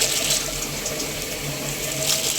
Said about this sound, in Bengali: ওগুলো আবার একটু ধুয়ে নিচ্ছি